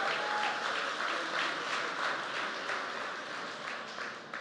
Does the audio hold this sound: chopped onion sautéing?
no